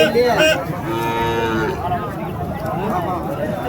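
A pair of native cows low in deep, drawn-out moos at a busy rural cattle market, with crowd chatter and voices running underneath.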